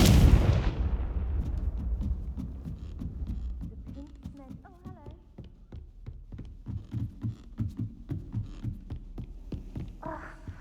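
A Confringo explosive spell from the Hogwarts Legacy video game bursts in one loud, deep blast that rumbles and fades, followed by a quieter stretch of low thuds and rhythmic game sounds.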